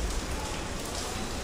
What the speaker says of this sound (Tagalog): Walang tigil yung ulan.